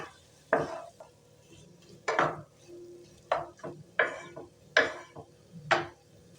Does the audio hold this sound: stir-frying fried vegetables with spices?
yes